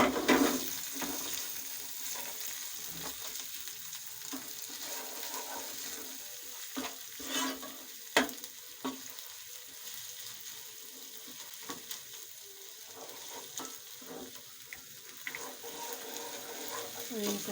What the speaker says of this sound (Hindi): और इनको अच्छे तरीके से हम फ्राई कर लेंगे।